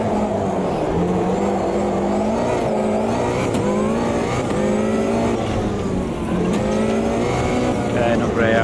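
Race cars in the Automobilista 2 racing game run a rallycross event, engines droning and revving continuously with shifting pitch as the cars are thrown around the track, while a commentator talks over them.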